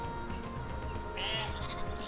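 Sheep bleating in the Northgard strategy game, one wavering bleat rising mid-clip over looping in-game music and ambience.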